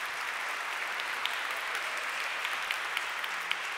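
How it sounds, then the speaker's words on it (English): An audience at a peace prize award ceremony in Sydney keeps up steady applause, a continuous wash of many hands clapping heard from a little distance with a few sharper claps standing out. "Keep that applause going for the University of Sydney."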